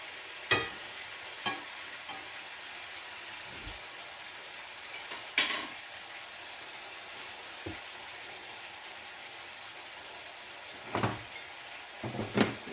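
Garlic steak bites frying in a hot pan give a steady, quiet sizzle throughout, broken by occasional sharp clicks and knocks of stirring near the start and end, with no speech.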